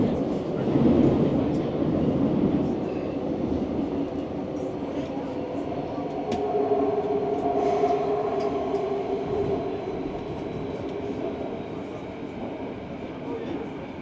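Vancouver SkyTrain metro train running, a continuous rumble with wheel and track noise and a rising electric whine, heard from inside the car with faint voices.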